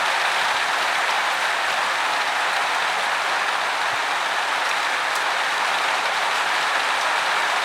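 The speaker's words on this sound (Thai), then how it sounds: "ได้ยินเสียงฝนนะ" Steady rain pours down outside a home surrounded by trees, a dense, even hiss that holds unchanged throughout with no voices.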